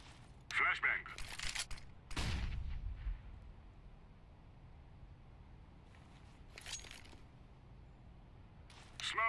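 A flashbang grenade detonates in Counter-Strike: Global Offensive, a sharp loud burst followed by a ringing tail, with game noise and other pops scattered around it.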